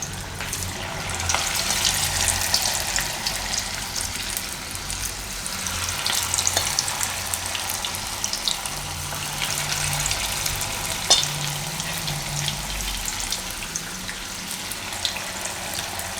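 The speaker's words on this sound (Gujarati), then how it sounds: "આ રીતે તો હવે આમાં તેલમાં આપણે પાડી લઈશું." Methi pava bhajiya, fenugreek-and-flattened-rice fritters, frying in hot oil over a low gas flame, giving a dense, steady sizzle and crackle with faint clinks, close and continuous, with no talking.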